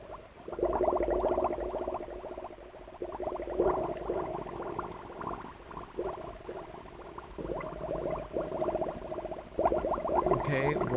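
Steady bubbling, flowing water fills a dark area of the Myst game world, a continuous churning wash at moderate level with small surges and no speech over it.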